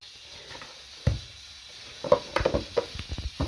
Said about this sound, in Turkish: Bir elimden de hamur yoğuruyorum